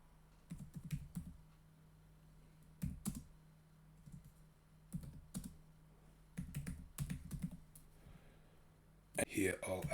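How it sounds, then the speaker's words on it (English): Short bursts of typing on a computer keyboard while entering text into an HTML file, quiet clusters of clicky keystrokes separated by pauses, close but soft. "Type some text."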